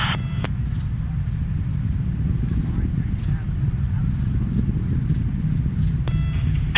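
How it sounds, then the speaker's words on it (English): Rocket engines and three air-lit solid boosters burning during the Cape Canaveral launch of the MER-B Opportunity rover, a steady, dense low roar lasting throughout, with brief faint tonal radio-like sounds near the start and end. "Main engine continues to burn well."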